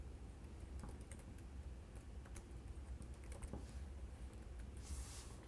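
Computer keyboard keys tapped while entering a new password in a desktop business application's security editor, a quiet, steady run of light clicks over a low background hum, heard alone without talk.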